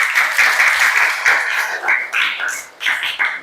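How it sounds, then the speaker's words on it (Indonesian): Morning classroom audience gives a round of applause, a steady bright clatter of many hands clapping together for a few seconds, rising and falling in bursts. "berikan aplaus untuk kita semuanya"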